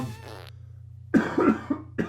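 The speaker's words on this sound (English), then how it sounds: "I guess I'm not entirely over the random cough that I've got" A single sharp cough bursts out near the mic after a short quiet pause, followed by a couple of smaller throaty coughs.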